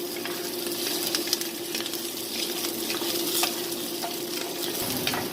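Onions roasting in a pan for a sofrito for caldo tlalpeño chicken soup, flipped around constantly: a steady close sizzle with light stirring clicks and utensil taps scattered through it.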